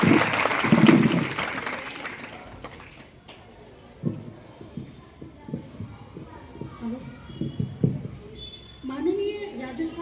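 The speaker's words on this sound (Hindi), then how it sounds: "एक बार जोरदार तालियों से।" A school audience at a cyber-crime awareness session claps loudly for a couple of seconds, then the applause fades into scattered claps and room noise as a voice begins speaking.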